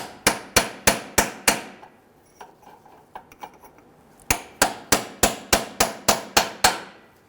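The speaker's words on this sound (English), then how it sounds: "I'm going to go ahead and use a punch, and I'm just going to go ahead and hit this here." Hammer striking a punch to separate the CV axle from its flange on a 2008-2013 Infiniti G37, two quick runs of five and eight sharp metallic blows in steady rhythm, close and loud, with faint clinks in the pause.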